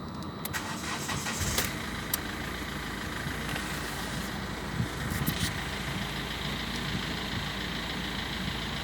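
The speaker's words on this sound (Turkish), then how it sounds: "Şimdi arabamızı çalıştıralım." A Hyundai Accent Era car engine cranks and catches, then settles into a steady idle, close and continuous with a few brief clicks near the start.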